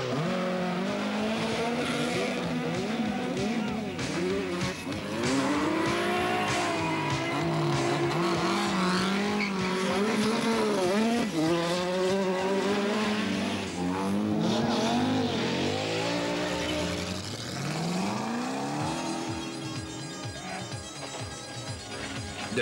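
Lancia and Porsche rally cars at speed on a 1985 Belgian rally stage, engines revving and rising and falling in pitch through gear changes, loud and continuous across the clip.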